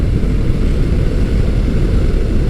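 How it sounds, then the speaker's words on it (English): Motus MSTR motorcycle with a 1650cc V-4 engine heard while riding, a loud, steady low engine drone mixed with wind rush, continuous and close, with no talking. "I am currently riding the Motus MSTR"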